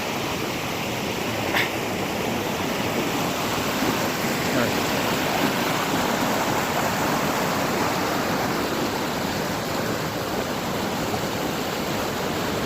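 A small waterfall in Sadağı Canyon near Orhaneli, Bursa, gives a steady, close rush of falling water with a broad, even roar. It holds constant for the whole stretch and no one speaks over it.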